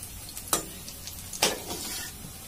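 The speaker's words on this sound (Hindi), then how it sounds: "अब हम क्या करेंगे, इसको पलट देंगे ताकि ये दोनों साइड से अच्छे से पक जाए।" Pakoras sizzle steadily in hot oil in a kadhai, with two sharp scraping clinks as they are turned over partway through.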